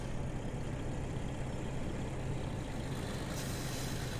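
A truck engine in Farming Simulator 17 runs with a steady, loud, low rumbling drone that stays constant and unbroken throughout, with no talk over it.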